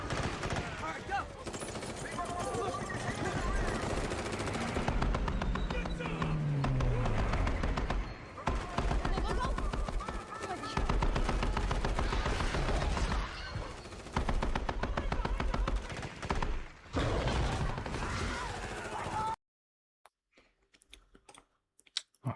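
Guns firing continuously in a game, a dense rapid stream of shots that runs loud and unbroken for nearly twenty seconds, then cuts off abruptly to near silence.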